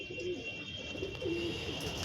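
Pigeons coo softly with a few low rolling calls spaced across a steady background hum, fairly close but quiet.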